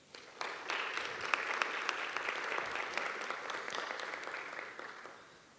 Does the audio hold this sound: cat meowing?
no